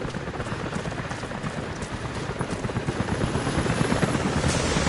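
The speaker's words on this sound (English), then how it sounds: "Jacob, helicopters are headed your way." A helicopter in the video game Rise of the Tomb Raider, a dense rotor thump steadily building in loudness as it approaches, with a rain-like wash over the whole stretch.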